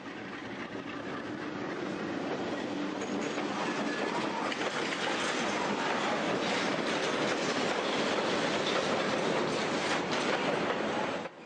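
A heavy freight train, the kind migrants ride known as "the beast", rumbles past steadily and loudly, with rhythmic wheel clatter and metallic rattling throughout, no voices.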